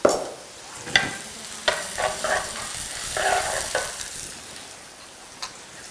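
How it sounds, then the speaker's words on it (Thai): Carrot and onion fry in hot oil with a steady close sizzle, broken by a few sharp scrapes and clacks of stirring spread across the stretch. "พอน้ำมันร้อนแล้วนะคะ ใส่แครอทก่อนค่ะ"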